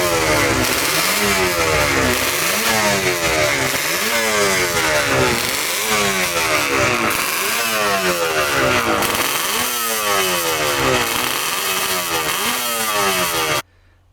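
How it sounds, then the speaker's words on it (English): A two-stroke Suzuki race motorcycle at a festival of speed, loud and close, revving repeatedly in rising and falling sweeps with a raspy, buzzing tone for most of the clip before cutting off abruptly. "I'm guessing two-stroke Suzuki race bike"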